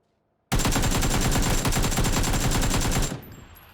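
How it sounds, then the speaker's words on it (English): A sustained, loud burst of rapid automatic gunfire in the battle-royale game PUBG, roughly two and a half seconds of dense, evenly spaced shots that cut off abruptly and leave a fading tail. "a lot of bullets whizzing straight past him"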